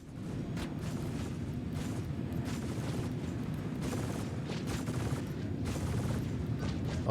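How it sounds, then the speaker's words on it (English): Ship lasers on an RSI Scorpius fire in Star Citizen with a rapid, continuous crackle of mechanical bursts, held at a steady, fairly quiet level throughout. "Only half my lasers are firing."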